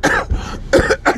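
A few sharp, close coughs come in quick bursts with short pauses between them, loud and alone with no talking.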